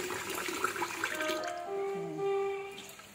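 Sticky rice for a Thai mango dessert is rinsed under running tap water, the stream steady and soft with faint sloshing and gurgling as the grains are stirred, near and fairly quiet.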